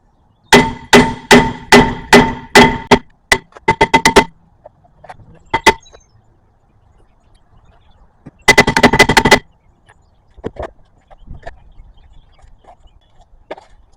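Repeated hard metallic hammer strikes on a stuck, warped front brake rotor of a 2016 Mazda CX-5, a rapid run of ringing blows, then a pause and a second burst, with scattered softer knocks and handling noises between.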